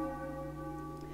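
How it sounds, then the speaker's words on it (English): A church bell strikes in Final Fantasy IX, a low, sustained ringing tone with steady humming overtones, faint and lingering without speech. "When yon bell strikes three, under the axe thou shall be."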